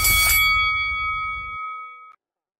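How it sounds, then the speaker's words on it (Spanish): A single bell strike rings out loud and close, an initial metallic clang followed by a clear ringing tone that decays over about two seconds before cutting off. "y que suene la campana"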